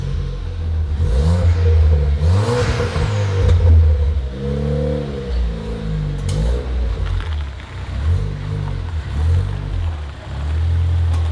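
A Ford Fiesta ST engine hums and rises in pitch through several gear changes as the car accelerates and cruises, loud and close.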